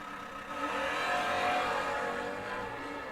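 A 1980 Chevy Z28 Camaro launches down a drag strip, engine roar swelling quickly and holding loud and distant in a broad rushing wash.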